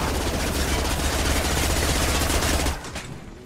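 Rapid automatic weapon fire from the Mass Effect Legendary Edition video game, a loud, dense burst that holds steady for nearly three seconds and then cuts off sharply.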